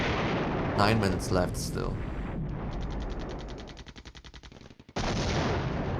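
Artillery barrage in the Flashpoint Campaigns: Southern Storm wargame: a burst of heavy blasts followed by a rapid, regular string of sharp reports that fade out, with a voice speaking briefly over it.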